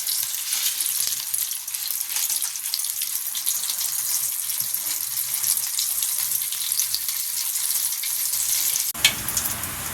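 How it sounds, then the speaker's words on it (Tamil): Steady crackling and sizzling of mustard seeds spluttering in hot oil in a kadai, a dense bright spatter that fades briefly near the end. "கடுகு நல்லா பொரிஞ்சிச்சு"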